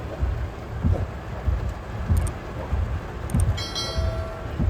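Rain falls outside on a wet Saturday in Guam, a steady broad wash with low rumbling pulses and a faint tonal sound near the end.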